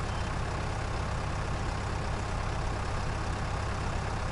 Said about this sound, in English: That's a proper diesel engine sound,